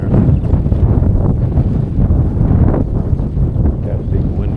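A strong gust of wind blasts across the microphone beside a pond while fishing for crappie, a loud steady roar and buffeting that runs the whole time without letting up.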